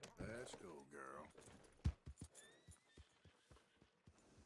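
Horse hooves clip-clopping in Red Dead Redemption 2, a string of soft, irregular thuds that follow a short burst of talk at the start and continue quietly alone.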